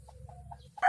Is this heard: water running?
no